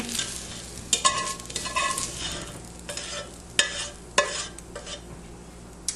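Sautéed vegetables are tipped into a pan for coq au vin, bursts of sizzling frying with clattering scrapes and knocks of a utensil against the pan, close and fairly loud, with no talk.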